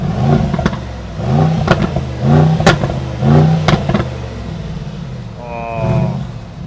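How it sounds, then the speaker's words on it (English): The V8 exhaust of a 2024 Mercedes-AMG GLE63 S SUV, US-spec without particulate filter, revs repeatedly in short rhythmic bursts, deep and throaty, with crackling pops between revs, close and loud. "it's time to listen up to the sound of this V8 monster GLE63S."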